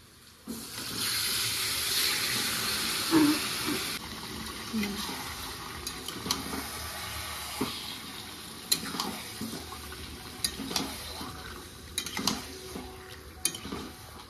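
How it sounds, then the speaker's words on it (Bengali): Marinated meat going into a pot with onions for biryani, a bright wet splash and sizzle at first, then clattering stirring scrapes and clinks against the pot, with a voice talking over it. "এখন আমি ম্যারিনেট করে মাংসটা দিয়ে দেবো।"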